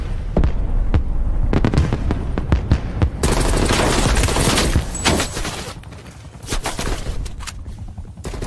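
Loud, dense gunfire and explosive bursts from Call of Duty Cold War, including the XM4 rifle, crackling in continuous volleys with heavy booms, the intensity easing slightly toward the end.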